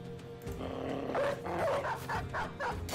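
A dog barks and growls in the Battle Brothers game (Legends mod), with several short, loud, rough barks in quick succession amid battle noise.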